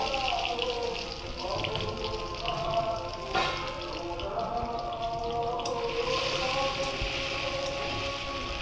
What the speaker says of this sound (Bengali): আগে পনিরটা আমি হালকা করে একটু ভেজে নিই।